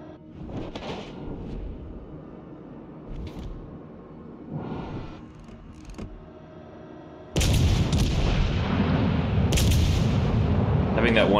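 Naval guns on the warship Carnot fire in a video game, with booming shots over steady engine and sea rumble. A heavy, sustained roar of firing starts about halfway through and continues to the end.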